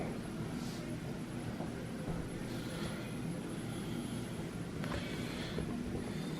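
A Mr Heater Big Buddy propane heater burns on its high setting. It makes a steady, even, low roaring hiss that holds without a break, fairly faint and with no voices.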